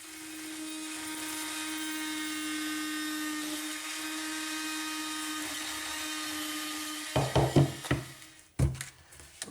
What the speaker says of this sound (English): I'm going to cut off the excess around the edges.